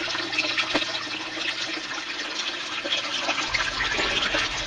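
Water running steadily through a deep well fine gold sluice, a continuous broadband rush and gurgle close by, fairly loud and even throughout with no voices.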